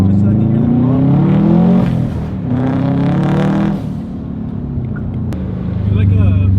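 A Subaru STI with a newly installed blow off valve revs hard at full throttle inside the car, the engine rising and falling loudly with a brief sharp release near the end, people talking over it.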